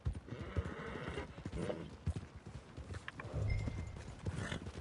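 Horse hooves clip-clopping in Red Dead Redemption 2, a steady trotting rhythm of soft, fairly close hoofbeats over dirt, with faint background ambience and no clear talking.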